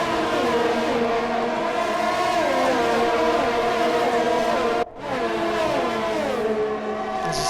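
A Mercedes Formula 1 car in the F1 2020 racing game screams along continuously, its high engine whine rising and falling with gear changes, with one brief dip in the sound partway through.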